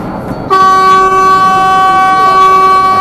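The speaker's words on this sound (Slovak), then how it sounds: "Prečo trúbim, priatelia, viete?" A bus horn sounds in a long, steady honk on an evening drive toward a district town, starting abruptly and holding loud and close for the rest of the moment over engine rumble.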